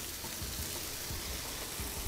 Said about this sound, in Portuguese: Aê, panelinha chiando.